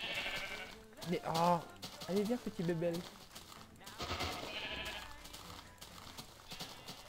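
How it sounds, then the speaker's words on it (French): Sheep in Minecraft give several bleats, close and fairly loud, over a few seconds, interleaved with a man's speech and game background noise. "Il y a un mouton, il y a un petit mouton."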